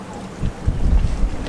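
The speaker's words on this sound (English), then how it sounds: "The wind out here is ridiculous. It's so windy." Strong wind buffets the microphone on a yacht, a brief low rumbling roar that swells and gusts up close, with no talking.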